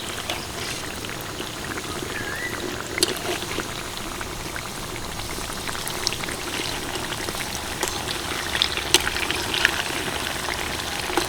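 Palm-fruit pithas deep-fry in hot oil in a kadai over a medium-high flame, with soft continuous bubbling and scattered small pops and crackles at a moderate, close level.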